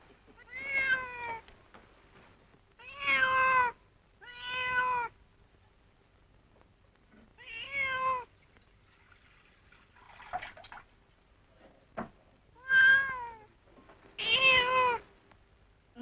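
A house cat meows repeatedly and insistently, giving about seven drawn-out, close meows with short pauses between them. The calls are loud and clear in a quiet indoor room, with a faint drip or small click in between and no talking.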